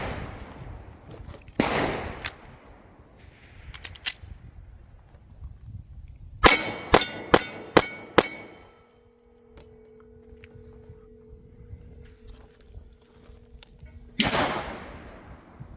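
Pistol fitted with a red dot sight dropped onto the ground, a few sharp hard impacts followed by a rapid cluster of metallic clacks, then a quiet steady hum and another thud.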